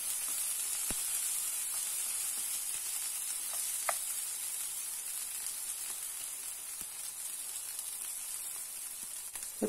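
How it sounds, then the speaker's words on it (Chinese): A pure potato pancake frying in oil in a pan, giving a steady close hiss of sizzling with occasional small pops and crackles, no voices. "两边都要重复煎一下，然后才能保持它的这个脆度"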